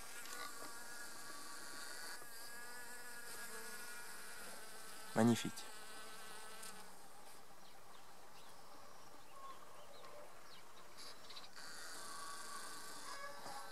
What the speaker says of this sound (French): Les abeilles qui sont contentes pour cette période.